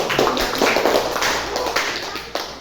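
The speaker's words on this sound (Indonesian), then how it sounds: "Tepuk tangan dulu untuk kelompok 1." A class of students claps for a group during an Islamic religious education lesson, a steady patter of many hands close by, tapering slightly toward the end.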